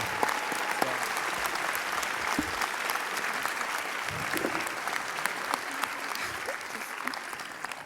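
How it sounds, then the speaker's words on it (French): An audience applauds steadily at a French event as staff members are introduced; dense, even clapping runs throughout with scattered sharper claps and a faint murmur of voices underneath. "Applaudissez, s'il vous plaît."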